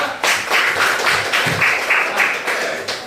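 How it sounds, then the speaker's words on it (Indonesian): Students in a classroom applaud a presenting group, a loud, close patter of clapping hands with distinct individual claps pulsing through it for about three seconds, voices faintly mixed underneath. "Tepuk tangan buat kelompok 2."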